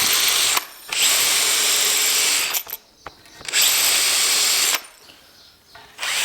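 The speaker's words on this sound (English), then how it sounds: "Something so simple as putting a screw in like that correctly, it can just make all the difference." A power driver whirs in bursts as it drives a screw into the frame of a pine bi-folding window shutter, two long runs separated by short pauses and softer clicks, close and loud.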